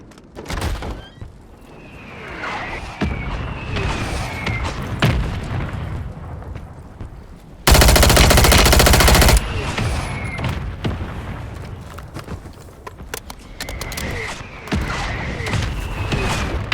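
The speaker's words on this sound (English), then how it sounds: "Mortar strike on the way." A mortar strike in the shooter Warzone 3 brings deep booms and thuds under ongoing game noise, with a loud sustained blast of noise partway through and distant scattered gunfire around it.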